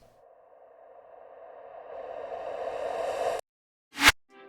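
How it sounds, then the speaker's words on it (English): Two pre-impact sound effects in a music track: a rising tonal swell that builds for about three seconds and cuts off abruptly, then a short sharp burst after a gap. "I added 2 pre-impacts."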